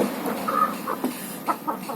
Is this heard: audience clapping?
no